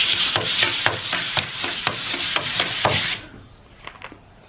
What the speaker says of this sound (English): So I'm just going to do a quick scuff sand all over.